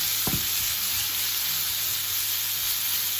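Onion, chili and garlic frying in a pan for chilli con carne, a steady close sizzle and hiss throughout with a brief stir scrape near the start, no talking.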